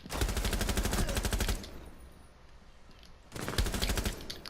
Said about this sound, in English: So I got that headshot on Ash right there, because headshots are key.